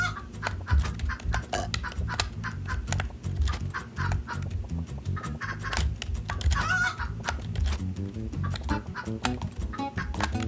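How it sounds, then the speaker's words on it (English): Clucking chickens from the video game Turnip Boy Commits Tax Evasion, heard amid dense game music and effects that play continuously throughout at steady loudness. "Chicken!"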